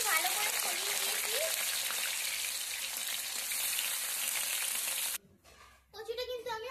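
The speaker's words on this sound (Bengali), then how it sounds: "তেল গরম হয়ে গেছে, এখন আমি একটা মানকচুগুলো ভেজে নেব।" Pieces of taro (mankochu) frying in hot oil, a loud steady sizzle that fills the first five seconds and then cuts off abruptly, followed by quieter clatter and a short burst of sizzling.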